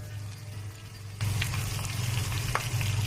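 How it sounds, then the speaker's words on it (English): Onion and minced green chili peppers fry in a pan for lamb haneeth, a low bubbling sizzle that jumps louder as the chilies go in, with a couple of faint stirring scrapes. "Now that the onion has burned, add the green pepper, the minced green chili peppers."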